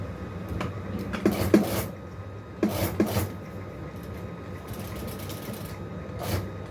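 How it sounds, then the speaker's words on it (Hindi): A sewing machine stitching a kurta runs in short bursts of whirring, clattering stitching separated by quieter pauses, fairly close and moderately loud, with no talking. "अब यहाँ से हमने इसको ऐसे बराबर रख के सिलाई लगा देंगे"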